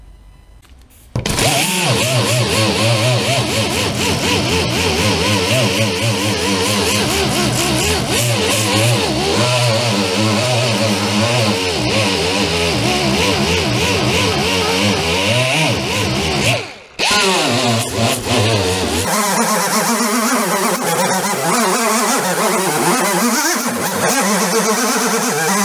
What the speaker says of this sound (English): 36 grit with the angle grinder